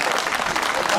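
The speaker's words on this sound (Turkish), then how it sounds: "alkışlarınızın eşliğinde" Steady applause from a crowd at a traditional Hıdırellez festival, a dense clapping wash that continues throughout with voices mixed in.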